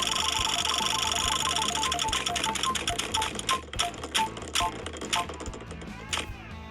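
A prize wheel spins with rapid, bright clicking that stays dense and even at first, then slows into spaced ticks toward the end, close and fairly loud.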